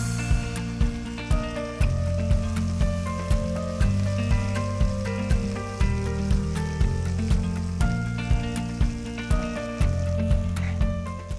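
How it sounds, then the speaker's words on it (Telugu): Chicken pieces and carrots frying in a pan, a steady crackling sizzle with regular scraping or tossing strokes repeating throughout, close and fairly loud, no talking. "చికెన్ ఆల్మోస్ట్ ఫ్రై అయిపోయిందండి"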